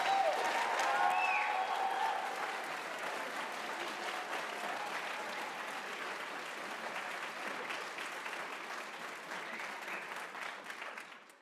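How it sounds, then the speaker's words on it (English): Sustained audience applause at a nursing program pinning ceremony for graduates at North Idaho College, a dense steady clapping from a large indoor crowd that holds for about eleven seconds before tapering off at the end. "could we give another round of applause?"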